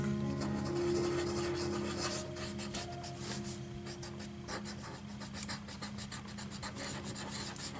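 A cotton-tipped colorless blender pencil rubs over Prismacolor colored pencil strokes on paper, making a steady close-up rasping scratch that continues for several seconds.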